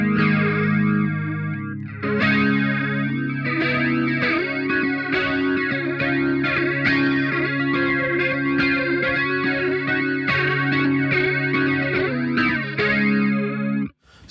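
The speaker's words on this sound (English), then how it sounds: "Now let's move on to flanger." Electric guitar chords played through the flanger setting of a BOSS MD-500 modulation pedal, giving a sustained, loud, sweeping jet-like whoosh that rises and falls repeatedly across the ringing notes before stopping abruptly, with no talking.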